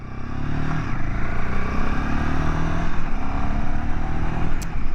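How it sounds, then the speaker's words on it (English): A Royal Enfield Himalayan motorcycle pulling out onto the road, its engine a loud, steady, close rumble that holds through the whole stretch while wind and road noise wash over it. "Pulling out onto the road."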